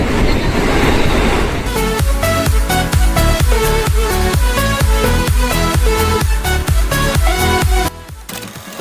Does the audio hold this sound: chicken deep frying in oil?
no